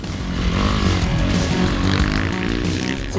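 Enduro motorcycle engines roaring continuously during an army enduro team training session, a loud, dense, sustained buzz with no talk over it.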